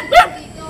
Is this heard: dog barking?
yes